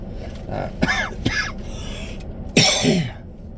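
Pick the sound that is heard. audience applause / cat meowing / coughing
coughing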